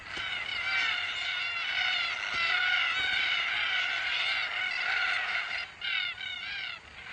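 Raucous, repeated squawking calls from a flock of red-tailed black cockatoos at farm hay bales, harsh and continuous, with a few calls standing out nearer toward the end.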